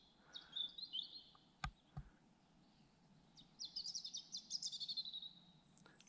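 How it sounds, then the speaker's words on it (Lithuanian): Small birds chirp and trill in a pine forest beside a river, two quick twittering bursts standing out over a faint ambient hush, with a couple of soft knocks between them. "paukščiukai čiulba"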